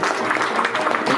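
Short burst of audience applause for a stage performer, dense even clapping throughout, moderately loud and close.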